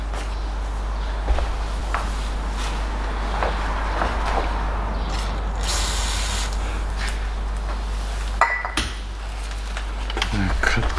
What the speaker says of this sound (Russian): откручиваю удлиненной головкой